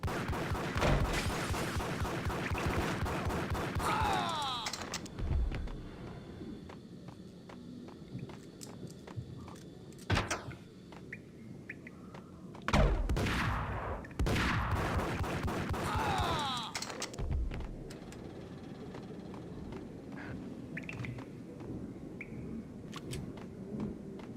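Rapid bursts of gunfire in the Max Payne video game, loud and close, with several sharp volleys spread across the stretch and quieter game ambience and footsteps between them.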